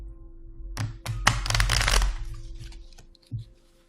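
Tarot cards are shuffled in a few quick riffling bursts, close and fairly quiet, with short pauses between them.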